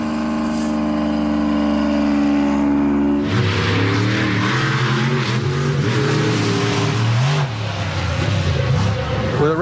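A modified drag race truck's engine idles with a deep rumble and then revs hard, the roar rising and wavering, loud and close throughout.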